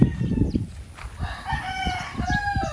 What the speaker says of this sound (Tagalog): Tapos ito, manukan.